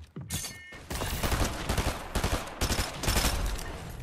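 Gunfire in the Fortnite video game, including a sniper shot, rings out as a dense run of sharp cracks and bursts packed close together at loud, steady volume, with no talking.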